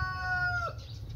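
A rooster crows once, a sustained tonal call that drops off at the end over low background rumble.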